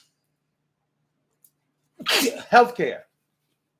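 A single sharp sneeze bursts out close to the mic after near silence, followed immediately by someone speaking briefly.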